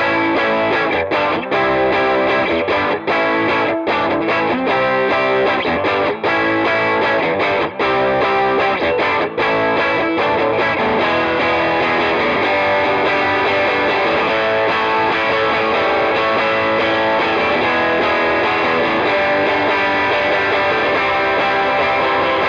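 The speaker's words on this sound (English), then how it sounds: "let's start with the bridge pickup. And as mentioned earlier, I have the Plumes going and a touch of spring reverb from the Space Echo pedal." Squier 40th Anniversary Jazzmaster Gold Edition electric guitar played on the bridge pickup through a Plumes overdrive with a touch of spring reverb from a Space Echo pedal, loud, continuous distorted chords and notes ringing out alone with no talk.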